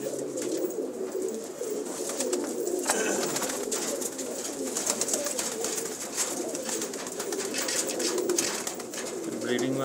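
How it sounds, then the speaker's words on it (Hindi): Breeder's pigeons coo in a busy loft, soft overlapping coos and rustling going on steadily throughout, with faint background noise. "कबूतर है"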